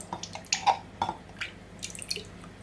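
Sugar-syrup juice drains from a jar of apricots in a string of close, irregular drips and small splashes, some louder plops among lighter trickles, with no voices.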